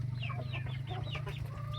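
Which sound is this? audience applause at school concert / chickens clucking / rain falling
chickens clucking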